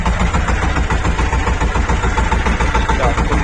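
A tractor engine rumbles steadily at close range during field cultivation before wheat sowing, a loud, low, throbbing drone with an even pulsing rhythm and no talking.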